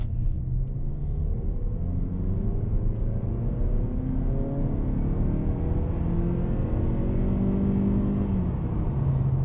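A 2019 Mazda3 hatchback in sport mode accelerates hard and holds its gear, the engine note rising steadily in pitch over a low rumble, loud and close, with no voices.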